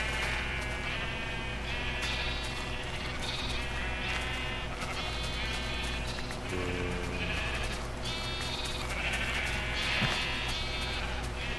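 Sheep in the Minecraft video game bleat over and over, several overlapping wavering calls from a flock, loud and close, layered over a steady hum with no speech.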